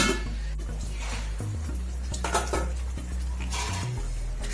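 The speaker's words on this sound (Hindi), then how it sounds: "तो हम इसको अच्छे से मिक्स करेंगे" A spoon scrapes and clinks through thick Schezwan sauce in a pan on a medium flame, a steady run of close, moderately loud stirring knocks and scrapes with a soft sizzle and no talking.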